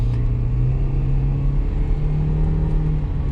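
A 2008 Toyota Prius with 180,000 miles at full throttle, a steady low engine drone and road rumble holding a sustained, slowly rising tone from inside the cabin.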